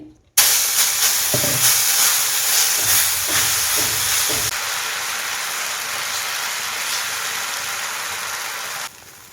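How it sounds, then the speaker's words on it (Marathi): Green sprouted moong dosa sizzling in oil on a very hot iron griddle, a loud steady hiss starting abruptly, with a few soft scraping touches early on, then fading slightly before cutting off. "दोन्ही साईडने डोसा भाजून घेतलेला आहे"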